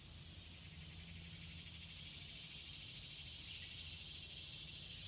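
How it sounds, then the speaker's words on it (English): Cicadas drone loudly and steadily through a summer morning, a dense continuous buzz with no pauses. "the cicadas are loud this morning"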